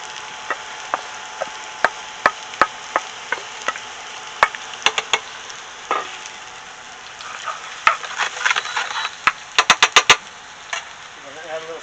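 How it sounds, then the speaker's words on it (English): Onions hit hot oil with softening garlic and sizzle steadily for a shrimp and green beans dish, with sharp ticks and stirring clatter scattered across the frying. "So we have the garlic in the oil, softening the garlic. Now we're going to add the onions."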